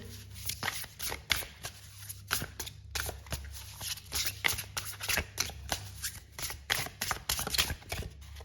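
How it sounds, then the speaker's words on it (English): Oracle cards being shuffled by hand in repeated quick riffling bursts, close and fairly loud, with brief pauses between bursts and no speech. "Let me just pull some oracle cards for you."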